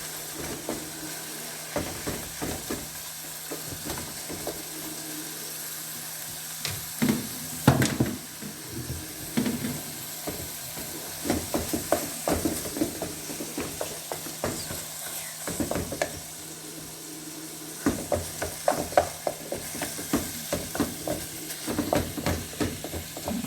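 Ground turkey and diced onions frying in a pan, a continuous sizzle with repeated rattling, scraping spatula strokes that grow busier toward the end, close and fairly loud.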